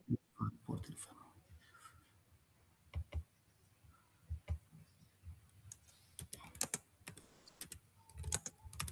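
Keys on a computer keyboard tapped in scattered bursts of clicks, fairly faint, during an online technical conference session with some quiet talk in the background.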